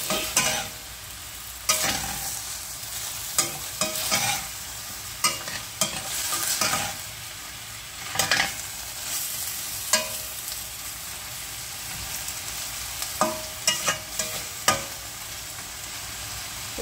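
Pork sizzling in its own rendered fat in a pan, a loud, steady crackle and spatter with sharp pops and stirring scrapes, no voices.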